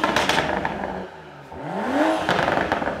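A used 2019 BMW M340i with a six-cylinder engine, lightly modified, revs up sharply, dips, then climbs again with a rising whine and crackle, close and loud.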